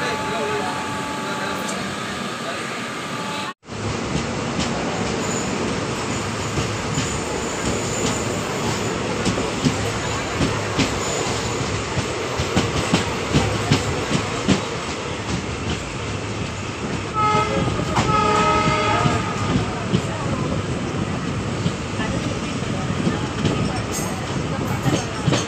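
Inside a diesel-hauled express train running from Karaikudi to Ramanathapuram, a steady loud rumble of wheels and carriage noise continues as it gets under way, with rhythmic clatter and a faint horn, under occasional voices.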